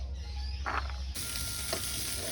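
Small puti fish fry in a pan with a faint clink and scrape at first, then a steady, bright sizzle sets in and holds, with no voices.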